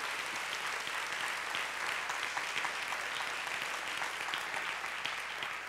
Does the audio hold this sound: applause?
yes